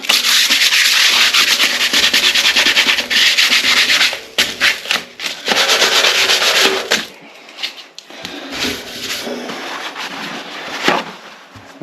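A painted radiator being sanded by hand with fine 180-grit sandpaper, with close, loud, rasping strokes that run in bursts with short pauses between them.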